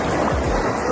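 Ocean waves wash onto a tropical island beach in Colombia, a loud, close, continuous rushing surf with wind buffeting the microphone.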